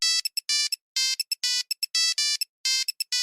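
A telephone rings with a bright electronic ringtone, repeated trilling bursts in a quick stuttering rhythm with short gaps, loud and close, with no voices.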